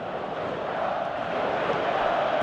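A stadium crowd in a football video game cheers in a steady, dense roar that swells slightly, with no individual voices standing out.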